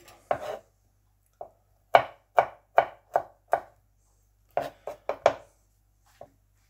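Garlic is chopped on a board for a deer meat karahi, a series of sharp, close knife thuds in irregular bursts with quiet gaps between them.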